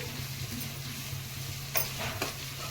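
Garlic paste frying in oil, a soft steady sizzle with a couple of brief scraping stirs of a utensil near the end, quiet and close.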